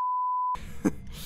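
A ghost phone in a ghost-hunting video game gives one steady electronic beep for about half a second, then cuts off into dim room noise with a short low groan.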